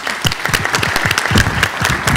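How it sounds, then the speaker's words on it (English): A conference audience applauds panelists at an aviation security session, with dense, steady clapping that fills the room close-up and stays even from start to finish. "another round of applause to you for the interaction"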